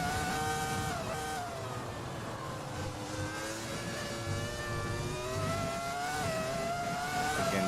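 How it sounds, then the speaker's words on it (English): A V10 race car engine in a racing game holds steady high revs with shifting harmonic pitch as the throttle is feathered out of a corner, loud and continuous throughout. "The car's basically playing on the throttle, just trying to maintain traction out of that corner"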